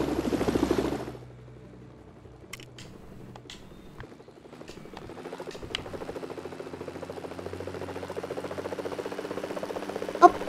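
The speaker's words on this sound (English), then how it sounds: "And I also have a helicopter." A helicopter in the video game LEGO Worlds gives off a low, steady rotor drone with faint fluttering. It follows a short burst of louder noise at the start, and sharp in-game clicks and chimes occur over it; no one speaks.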